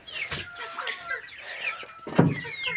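Hens cluck in a coop where a hen is laying eggs: a close series of uneven clucks and short squawks, with a louder squawk near the end.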